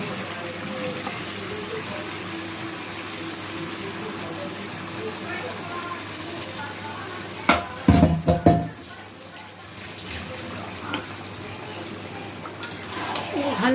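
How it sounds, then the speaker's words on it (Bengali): Marinated mutton dropped into sizzling oily masala in a pan. A quiet steady sizzle is broken midway by a loud burst of clattering and splashing, then softer stirring, with a faint voice at times. "এবার আগের থেকে 1/2 ঘন্টা করে ম্যারিনেশন করা মাটনটা এবার এই মশলার মধ্যে ছেড়ে দেবো"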